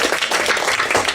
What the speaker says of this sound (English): I think you could give Sara a clap for that.